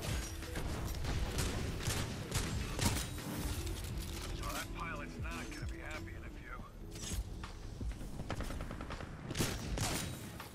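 Titanfall 2 multiplayer gunfire: repeated shots and bursts of fire with clanking mechanical game sounds, heard under steady talking from a player.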